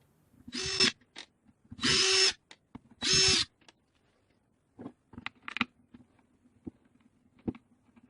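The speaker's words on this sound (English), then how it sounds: "Flip out the screws." A power driver whirs in three short, loud bursts as it backs screws out of the housing of a DeWalt DCF885 impact driver during brush replacement, followed by scattered small clicks and taps of handling.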